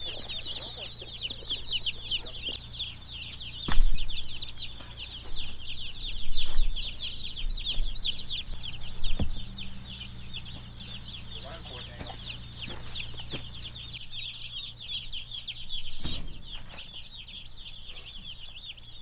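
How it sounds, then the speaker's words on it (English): Young chickens in a pen keep up a dense, continuous chorus of high peeping and clucking, close and steady, with occasional thumps and clatter in the background. "Now, these are not all of the chickens we plan on getting."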